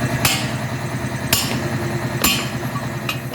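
Loud metal hammer strikes drive out a broken wheel nut during a tire and brake repair, four sharp blows spaced about a second apart over a steady idling motorcycle engine.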